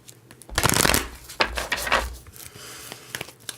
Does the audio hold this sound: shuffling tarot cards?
yes